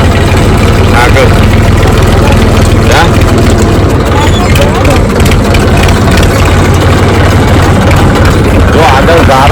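A tractor engine running loud and close on a muddy track, a continuous low rumbling drone throughout with faint voices underneath.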